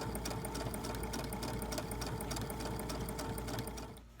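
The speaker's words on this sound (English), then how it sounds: "you're going to go ahead and put it on your machine and sew" A sewing machine runs steadily, stitching the side seams of a scrunchie top in one continuous, even whir with rapid needle ticking, close up and alone until it stops at the end.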